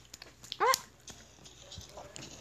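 Dog in the Minecraft video game barking and whimpering, with a loud yelp in the middle followed by softer whines and faint game sounds.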